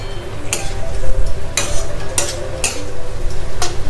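Pieces of fried fish stirred into a pan for Bengali matikalai dal, with a steady sizzle underneath and several distinct scraping clinks of a spatula against the pan at irregular intervals, loud and close, no voices.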